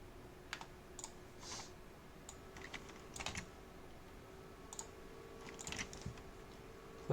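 Keys on a computer keyboard are tapped softly and unevenly as a phone number is entered, sparse clicks over a faint steady room hum.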